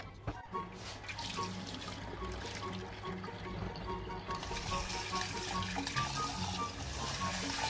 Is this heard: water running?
yes